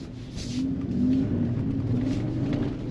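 A 2024 Toyota Sequoia TRD Pro SUV drives an off-road sand course, its engine rumbling and revving steadily at close range with no talking.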